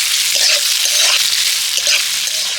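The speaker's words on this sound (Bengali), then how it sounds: "এবার কুচিয়ে রাখা পেঁয়াজগুলো আমি তেলের মধ্যে দিয়ে দেব। ভালো করে পেঁয়াজটাকে ভেজে নেব।" Chopped onions frying in hot oil give a loud, dense, continuous sizzle close by, crackling steadily for a couple of seconds with no voices.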